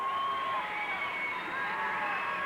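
A wrestling crowd cheers for Heidi Lee Morgan during her match against Kimmy Kozak, a steady roar of voices with shouts and whoops across the whole arena, loud and continuous.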